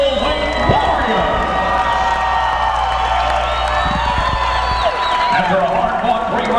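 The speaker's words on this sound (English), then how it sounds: "Let's have a round of applause for these 2 middleweight warriors." Crowd cheering and whooping for two middleweight fighters at a cage fighting event at the Beaumont Civic Center, with a loud announcer's voice speaking over the noise.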